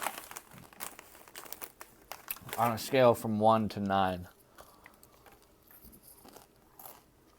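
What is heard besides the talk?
Cheetos bag crinkling and chewing Cheetos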